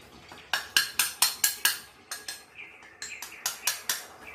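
Minced meat and cartilage for Vietnamese blood pudding being mixed and stirred in a tray, with a quick series of sharp clinks and scrapes of a utensil against the dish, about a dozen strikes in uneven rhythm, close and fairly loud.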